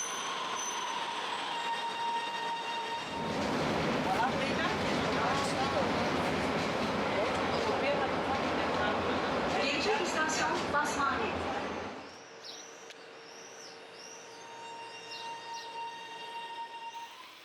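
A train pulls into a station in Turkey, rising from quiet ambience to a loud rolling rumble with squealing wheels for several seconds, then fading, with faint voices nearby.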